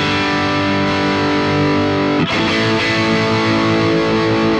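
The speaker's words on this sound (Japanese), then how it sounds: "このマーシャルマキシマムゲインスイッチハイにしてみます" A heavily distorted electric guitar runs through a BOSS GT-1000 processor on a Marshall amp model with the gain switch set high, ringing as a loud, sustained chord with a brief re-strum partway through, with no talking.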